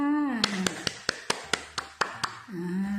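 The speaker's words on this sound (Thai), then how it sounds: "ปรบมือตัวเองดัง ๆ ค่ะ" Small children clap along in a classroom, a run of about nine sharp, evenly spaced claps at close range, with a voice speaking before and after.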